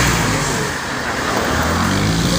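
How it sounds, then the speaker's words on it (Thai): Road traffic rumbles past as a steady broadband roar of car engines and tires, loud and close, with no voices. "ขอโทษขออภัยด้วยนะครับ เสียงรถจะดังหน่อยเนาะเพราะว่าผมอยู่"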